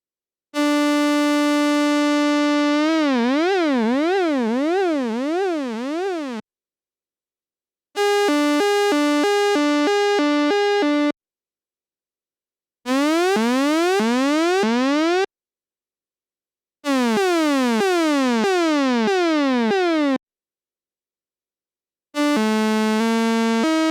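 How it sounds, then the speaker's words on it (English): Arturia Matrix 12 V software synthesizer cycling through different oscillator waveforms with LFO modulating the pitch, heard as five loud, isolated synth passages with wobbling and sweeping tones separated by silence. "We can hear how the different waveforms affect the sound."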